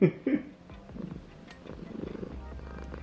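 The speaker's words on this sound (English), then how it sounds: "This cat is purring so loud next to me." A close, low rumbling purr from a cat, rhythmic and steady, following a brief louder voice-like sound at the start.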